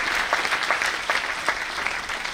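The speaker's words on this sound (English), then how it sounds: "A big round of applause for him." Audience applause in a large hall at a national student conference for chartered accountancy students, a steady wash of many hands clapping, moderately loud and sustained, without voices.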